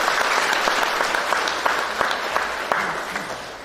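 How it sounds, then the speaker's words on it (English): An audience at an opening ceremony for a Hindu social and cultural organisation claps warmly, with dense, steady applause that begins fairly loud and slowly thins out toward the end. "Please give a round of applause to her."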